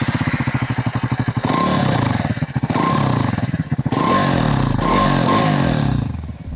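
A Triumph Scrambler 400X motorcycle with a twin pipe exhaust revs repeatedly up close, its loud, blatty engine note rising and falling in several throttle blips before easing off.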